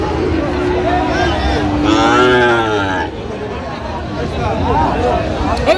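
A five-month-old Friesian-cross bull calf moos loudly at a busy cattle market in Raniganj, one long drawn-out call close by, with people talking and bargaining around it.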